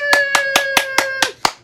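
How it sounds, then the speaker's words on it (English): Hands clapping during a game, seven sharp, evenly spaced claps close up, with a sustained tonal hum running beneath most of them. "Every time I say right, you have to clap your hand."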